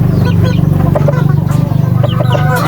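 A pet rooster, a young gamefowl stag, clucks in short repeated calls close by, over a steady low hum.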